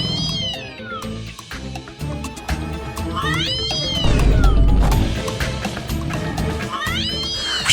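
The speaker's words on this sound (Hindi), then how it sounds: "ये बिल्ली की आवाज कैसे आ रही है? ये पुष्पा जी का रिंगटोन है," A phone ringtone of a cat meowing, left ringing on top of a cupboard, sends out three drawn-out, rising-falling meows a few seconds apart over steady background music and clatter.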